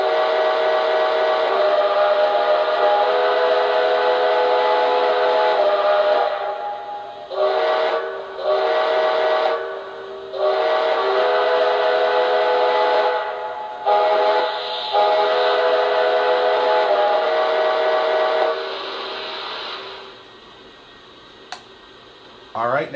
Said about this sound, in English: it is the quillable whistle, so I will go through a bunch of the different whistle settings